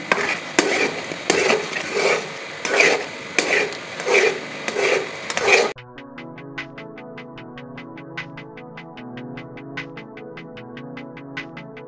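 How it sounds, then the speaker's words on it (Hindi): Egg tukri halwa roasts in ghee on a medium flame as a spoon stirs it in steady, rhythmic scraping strokes for about six seconds. Soft background music takes over after that. "अब हमें इसकी मीडियम फ्लेम पे बुनाई करनी है बहुत अच्छे से"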